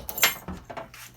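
Household keys jangle briefly beside a security system control panel, a short bright metallic rattle with a couple of small clinks, close and fairly quiet.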